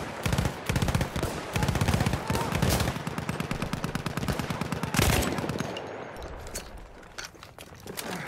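Dense rapid automatic gunfire in the Battlefield 1 video game, loud bursts and overlapping shots for several seconds, then sparser fire and trailing echoes, with no speech.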